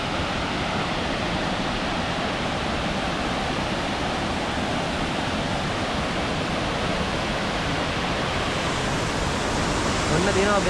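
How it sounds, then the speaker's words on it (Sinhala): Baker's Falls in Horton Plains rushes as a dense, constant roar of falling water, loud and unbroken throughout. "වතුර සද්ද යනවා බේකසැල්ලේ"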